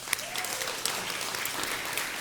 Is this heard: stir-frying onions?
no